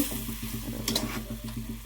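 A spoon scrapes around a pan of onion-flower-stalk curry in a steady rhythm, close by, with a soft sizzle beneath the stirring.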